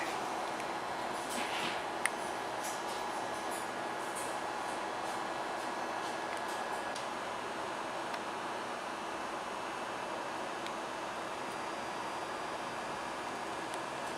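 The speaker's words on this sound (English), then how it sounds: "Train departing. Please hold on." A light rail train departs Beaverton Transit Center, heard as a faint, steady interior rumble and hiss of motion with a few light clicks early on, no voices.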